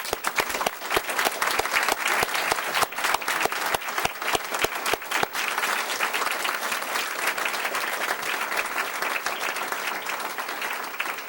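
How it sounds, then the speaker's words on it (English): A roomful of people at a school board meeting breaks into applause, loud and continuous with sharp individual claps standing out at first, then settling into an even wash that carries on to the end. "Ladies and gentlemen, it's time to offer these folks some applause."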